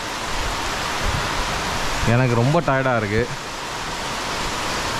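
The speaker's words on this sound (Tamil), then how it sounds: "சரியான மழை." Heavy rain at midnight, a dense, steady hiss that fills the whole stretch at constant loudness, with someone speaking briefly over it midway.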